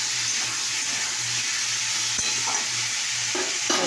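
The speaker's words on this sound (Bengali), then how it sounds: "একটু হলুদ নুন দিয়ে নাড়াচাড়া করছি।" Vegetables sizzle steadily in a hot pan with turmeric and salt as a spoon stirs through them, giving occasional scraping strokes over the constant frying hiss and a faint low background hum.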